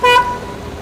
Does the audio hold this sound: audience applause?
no